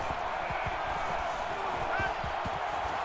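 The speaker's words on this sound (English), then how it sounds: "It's the crowd, man." A roaring stadium crowd from a simulated Miami Hurricanes versus Florida State college football video game at Hard Rock Stadium hums in a steady, loud wash, with scattered thumps and claps rising through it.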